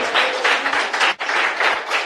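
A church congregation claps together in a dense, steady burst, loud and close, with a brief dip in the middle before the clapping resumes.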